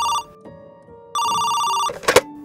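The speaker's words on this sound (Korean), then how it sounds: "2016년 5월 31일 경찰서로 다급한 전화 한 통이 걸려옵니다." A telephone bell rings in two loud bursts, with a short quiet gap between them, followed by a brief clattering noise.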